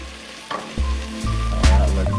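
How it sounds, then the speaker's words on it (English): Pork sautés in a pan for dinuguan, a Filipino pork blood stew, with a loud, steady sizzle and crackle close up, punctuated by stirring scrapes and no voices. "I'm just gonna saute the pork"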